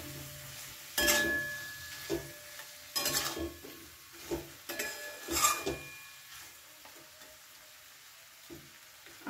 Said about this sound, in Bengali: আর দিয়ে দিচ্ছি ভেজে রাখা মাছের কাঁটাগুলো। এটা দিয়েও ভালো করে মিশিয়ে নেব।